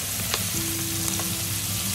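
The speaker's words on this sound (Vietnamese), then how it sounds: "cho cái phần da xuống trước để chúng ta chiên ha" Pork trotters fry skin-side down in hot oil, a continuous dense sizzle and crackle with a faint steady tone and no voices.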